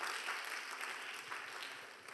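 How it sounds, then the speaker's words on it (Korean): A church congregation applauds during a Korean sermon on Proverbs, a faint, steady wash of many hands clapping at a distance for about two seconds with no break. "박수 한번 쳐주세요."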